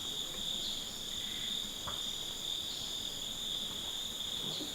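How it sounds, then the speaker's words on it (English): Night insects such as crickets trill in a steady, high, continuous chorus around a hut in the Amazon rainforest, faint and unbroken with no voices. "I'm in a hut, literally a hut, in the middle of the Amazon rainforest."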